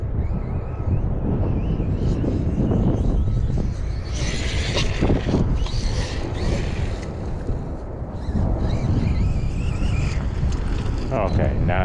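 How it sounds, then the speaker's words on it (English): Gusty outdoor wind buffets the microphone in a continuous loud rumble at an RC stadium truck outing, with bursts of brighter hiss and what may be a distant motor whine mixed in. "Okay, now it's getting windy out here."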